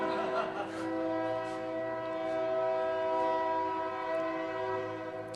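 A train horn sounds one long, steady, sustained blast that stays loud and even throughout, with a few faint background noises underneath.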